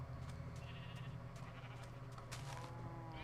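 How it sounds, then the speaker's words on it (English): Minecraft sheep bleating in the video game, several short wavering bleats overlapping at moderate level over a faint steady background hum, no talking. "And our sheep are still sheeping."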